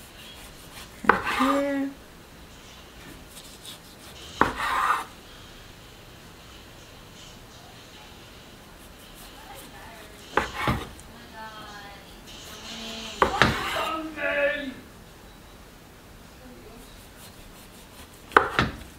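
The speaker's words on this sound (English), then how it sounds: "So first I cut it in the middle," A knife cuts down through a rolled cinnamon dough log for sticky buns with apples and pecans, giving a few separate soft thuds and scrapes spread across the stretch, with a voice talking in between.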